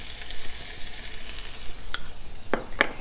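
Ground taco meat with cumin, salt and pepper sizzling in a pan, with a soft steady fry and a few sharp spoon scrapes and clicks near the end.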